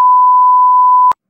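A cartoon telephone rings as a single steady electronic tone that holds for about a second and then cuts off sharply, loud and alone.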